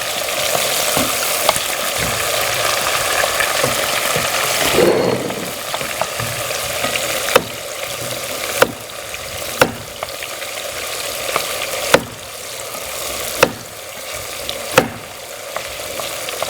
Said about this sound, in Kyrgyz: Этти кызгын майда аябай жакшы кууруп алыш керек